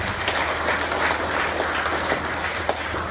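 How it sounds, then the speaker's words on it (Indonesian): Audience at a motivation class applauds in a dense, even patter of many hands, moderately loud and sustained throughout, with no talk over it. "Tepuk tangan buat Anda."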